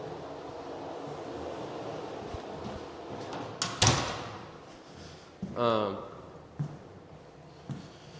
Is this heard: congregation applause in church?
no